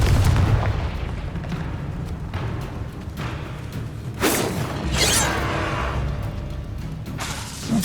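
Spell-casting blasts in Hogwarts Legacy: a rumbling battle bed with a couple of sharp bursts and whooshing impacts, loud and close, with no talk.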